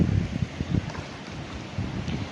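Strong wind roars and buffets the microphone in low gusts on a seashore, steady and close, with no voices.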